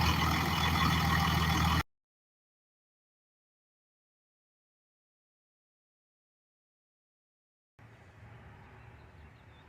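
A loud truck engine roars up close for a couple of seconds, then cuts to silence. A fainter, low running rumble returns near the end.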